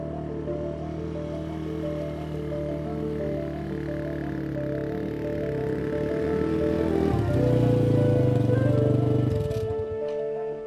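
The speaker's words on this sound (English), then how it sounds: "I'm using a quad bike to cover as much ground as possible and go deeper into the forest" Quad bike engine droning through Australian rainforest, a steady harmonic rumble that rises in pitch and strain toward the end before easing off, loud and close throughout.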